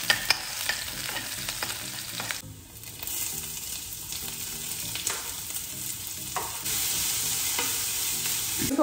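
Egg frying in a pan with garlic, ginger and green chili gives a steady close sizzle, broken by scraping stirs and a short dip in the hiss partway through.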